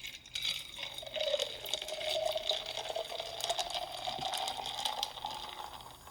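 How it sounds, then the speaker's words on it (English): Sprite is poured into a blue tropical-style fishbowl cocktail, giving a steady fizzy pouring and splashing of liquid for several seconds, close and fairly loud, with no talking. "To make it even more beautiful, add Sprite."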